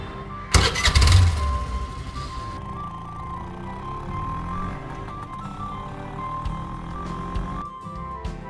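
A vehicle engine cranks and catches with a loud burst, then settles into a steady low idle hum that continues close by, ending with a brief clunk.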